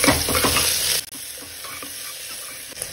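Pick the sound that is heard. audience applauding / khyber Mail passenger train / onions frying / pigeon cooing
onions frying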